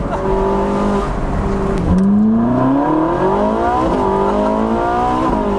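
A 2013 Ferrari 458 Spider accelerates hard with its dual-clutch gearbox, the engine note climbing in pitch. A quick upshift drops the revs around two seconds in, then the engine winds up again, loud and close.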